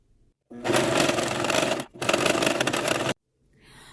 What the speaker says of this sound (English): wind your needle down, and then start sewing and keep your foot lined up with the edge of your fabric